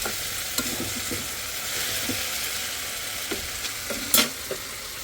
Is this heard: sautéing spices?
yes